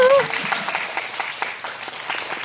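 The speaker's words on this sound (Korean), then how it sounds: "박수" An audience at a theatre event for the Korean play Old Wicked Song bursts into brisk applause, a steady round of many hands that follows a brief voice at the start.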